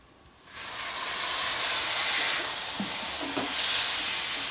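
Chana dal (split chickpea lentils) fries in a pan: a sudden loud, steady sizzle starts after a brief quiet moment and carries on close by, with a few soft stirring knocks partway through.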